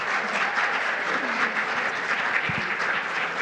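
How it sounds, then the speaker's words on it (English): A college audience at a Black History Month opening ceremony applauds steadily, a dense, even wash of clapping hands from many people with no voices over it. "let's greet them with a round of applause"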